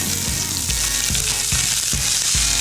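Sliced onions and mustard seeds fry in olive oil in a hot pan, a loud continuous close sizzle with a few rhythmic low thumps from stirring or shaking the pan.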